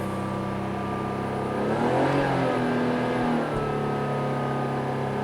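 A car engine idles, then revs up in a smooth rising swell around the middle before settling back to a steady idle hum.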